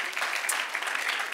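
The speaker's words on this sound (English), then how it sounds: "Wow, come on, give him a hand of applause." Brief, dense applause from a church congregation, a steady wash of clapping with no gaps.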